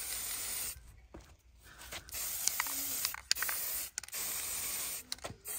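Aerosol spray paint misted in short bursts over interior dashboard trim pieces from a car, with hissing spurts broken by pauses, close and fairly quiet.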